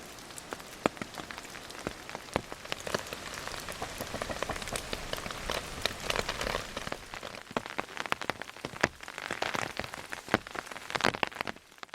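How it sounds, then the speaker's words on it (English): Heavy rain pours down in a Tasmanian rainforest in the Tarkine, a steady dense hiss with scattered close drops tapping loudly on nearby surfaces such as umbrellas, no voices. "it started to rain heavily"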